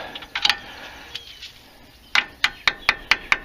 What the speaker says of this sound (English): have to grab a hammer and tap that out